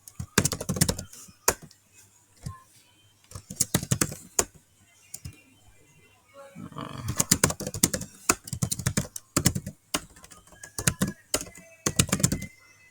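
Clicky computer keyboard keys being pressed for copy and paste shortcuts while building a table in Canva, coming in quick irregular bursts of taps with short pauses between them.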